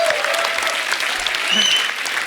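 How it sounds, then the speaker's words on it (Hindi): A studio audience at a comedy talk show claps in a loud, dense, sustained burst of applause filling the room. "मतलब तालियां बनती हैं"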